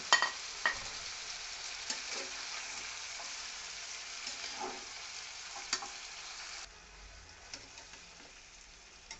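Pieces of bottle gourd go into spiced masala frying in oil, making a quiet, steady sizzle with a few soft clicks and stirring scrapes, and the sound drops to a gentler hiss partway through.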